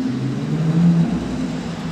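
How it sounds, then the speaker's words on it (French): A Lamborghini Aventador approaching at a car-spotting outing, heard as a steady low engine drone from a distance with a slight swell in the middle, no voices. "J'entends une Aventador arriver."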